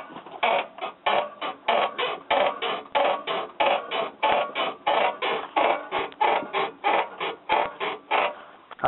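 A Dodge suspension with suspected worn upper control arm bushings and ripped upper ball joint boots, giving off a repeated creaking squeak in a steady rhythm of roughly three per second, loud and close, with no talking.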